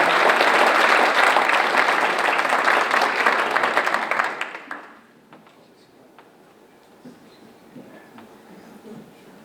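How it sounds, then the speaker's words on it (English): A school board meeting crowd gives a loud, sustained round of applause that fades out midway, leaving a quiet room with faint shuffling. "let's give them a great round of applause"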